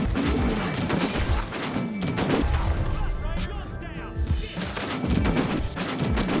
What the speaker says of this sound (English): I was ambushed quickly and swiftly by the Lemoyne Raiders that were packing a fucking Maxim gun